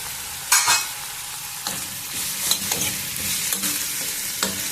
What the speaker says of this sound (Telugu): టమోటాలను కూడా బాగా మగ్గనిద్దాం